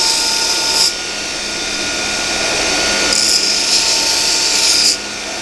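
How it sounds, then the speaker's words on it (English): Large belt grinder with a long belt shaping a knife by hand, a loud steady whir with a brighter, higher grinding tone during two passes of the blade against the belt, and no talking. "it's a pretty big grinder with a long belt"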